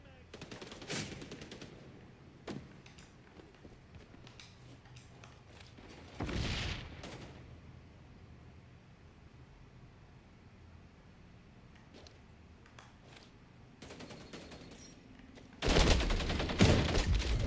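Rapid automatic gunfire in the XDefiant shooter game, with loud bursts from a deployed turret and weapons coming in irregular clusters, the heaviest near the end, and quieter gaps in between.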